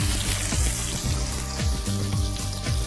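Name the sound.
food frying in a hot pan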